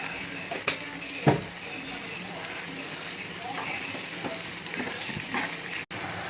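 Long-sliced onions deep-frying in oil for homemade chicken biryani make a continuous close sizzle, with occasional light stirring clinks throughout.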